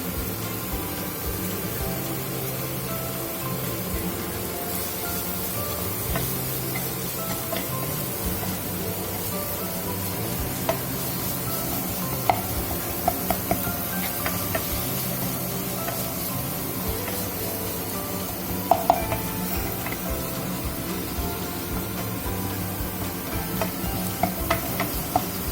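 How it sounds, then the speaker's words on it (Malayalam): Tomatoes and onions fry in a pan for baingan ka bharta, with a steady sizzle and repeated scraping stir strokes throughout, close and alone with no voices. "ഇനി പച്ചമണം മാറുന്നവരെ നമുക്കൊന്ന് ഫ്രൈ ചെയ്യാം. ഇതിലേക്ക് നമുക്ക് ചോപ്പ് ചെയ്ത് വെച്ചാൽ തക്കാളി ഇടാം."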